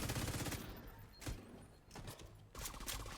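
Bursts of automatic weapon fire in The Division 2, loud rapid fusillades in several clusters separated by brief lulls, with no talking.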